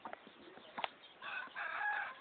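A hen clucks and calls near her chicks on a farm, heard fairly faintly, with a few soft clucks followed by a drawn-out crowing-like call toward the end.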